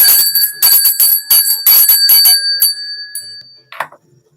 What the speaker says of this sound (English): let me ring my little bell here.